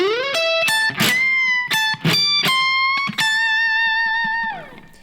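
A distorted electric guitar plays a bluesy phrase of picked notes and bends from a solo, ending on a long sustained note that slides down to the root.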